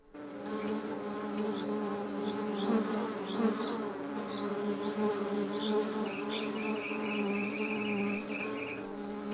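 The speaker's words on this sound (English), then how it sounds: "The busy bees buzzed from flower to flower." Bees hum and buzz steadily in a layered, close drone that holds for the whole stretch, with brief high chirps and bird-like twitters sprinkled over it and no voices.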